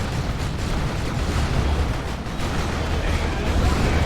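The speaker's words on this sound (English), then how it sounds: "Plasma cannon overshoots." A plasma cannon shot explodes during a Dawn of War 2 battle between Imperial Guard, Chaos and Space Marines, heard within a dense, continuous roar of game combat noise and blasts.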